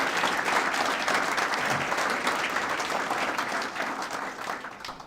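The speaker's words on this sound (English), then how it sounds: "how about a round of applause for the folks that work so hard?" Sustained audience applause for catering and wait staff at a university talk, broad even clapping from a room full of people that gradually thins and fades toward the end.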